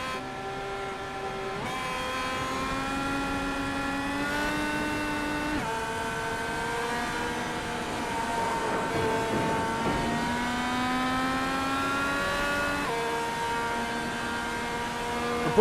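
Race car engine heard in a replay from Bryce Roberts' number 21 car at a Speedway 500 race: a sustained high whine that shifts pitch through upshifts and downshifts, loud and close, with no talking.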